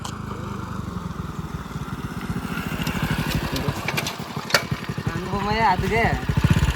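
Motorcycle engine running at a steady idle in a village, a close, even throb that rises a little as it revs, under casual talk between people.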